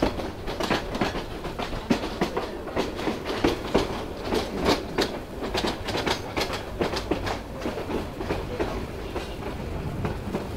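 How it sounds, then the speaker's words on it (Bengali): The Brahmaputra Express, running from Mymensingh to Dhaka, rattles along with steady clickety-clack wheel beats and a rumbling carriage drone. Heard from on board, it goes on continuously at a moderate level. "তো ব্রহ্মপুত্র এক্সপ্রেস ট্রেনটা"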